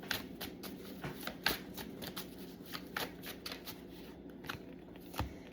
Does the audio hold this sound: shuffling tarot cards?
yes